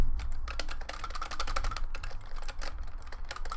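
Arcade cabinet buttons pressed in quick irregular bursts, giving close, crisp plastic clicks much like keyboard typing, with no talk.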